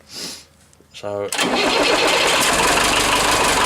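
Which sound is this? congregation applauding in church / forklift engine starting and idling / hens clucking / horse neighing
forklift engine starting and idling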